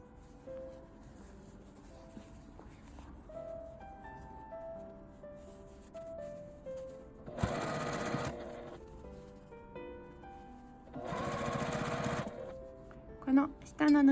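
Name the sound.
sewing machine stitching fabric for a tent pouch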